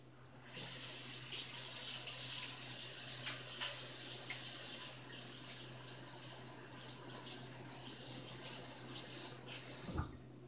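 A kitchen tap runs in a steady, faint hiss of water while something is rinsed under it during home pizza cooking, ending with a soft knock near the end.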